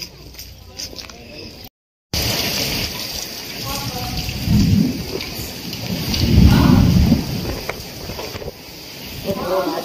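Steady rain falls with deep thunder rumbling twice mid-clip, heard outdoors on a walk to a market, while people talk and a brief dropout cuts in early.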